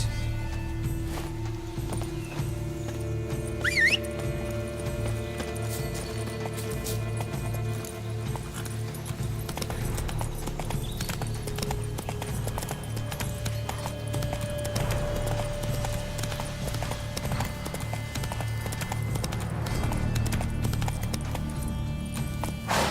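Horse hooves gallop in The Witcher 3 video game, a continuous rapid clip-clop under game ambience and a faint whinny, steady and moderately loud throughout.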